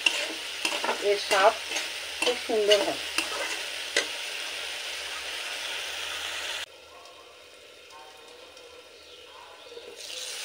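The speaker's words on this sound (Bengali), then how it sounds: "মশলা খুব ভালোভাবে কষানো হয়ে গেছে, টমেটো একদম সম্পূর্ণরূপে গলে গেছে" Spice masala and tomatoes for a fish curry sizzle and get stirred in a pan, with close scraping strokes over a steady fry hiss; a voice speaks briefly and the sizzle turns softer and quieter partway through.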